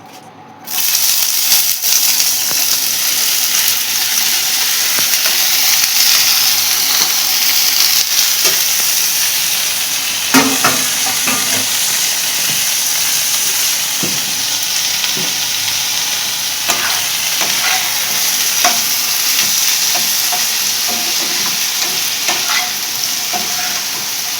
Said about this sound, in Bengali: পেঁয়াজটা একটু লাল লাল করে ভেজে নিই।